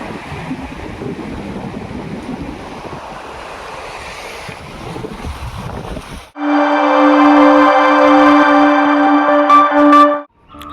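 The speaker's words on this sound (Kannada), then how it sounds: "ತೆರೆಗಳ ಶಬ್ದ ನೋಡಿ ಹೆಂಗಿದೆ" Steady roar of ocean surf breaking below St. Angelo's Fort in Kannur, Kerala, mixed with wind, then abruptly replaced by a loud, sustained droning tone.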